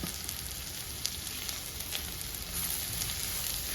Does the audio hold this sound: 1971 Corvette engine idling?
no